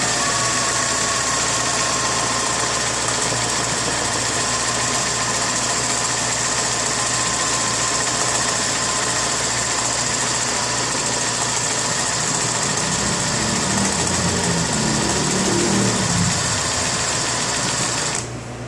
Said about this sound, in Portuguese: é só vocês passar a costura várias vezes no mesmo local onde vocês estão fazendo o